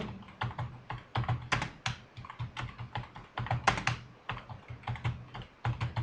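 Rapid typing on a computer keyboard while entering text into a Word document, close-up and steady, with bursts of key clicks and short pauses between words.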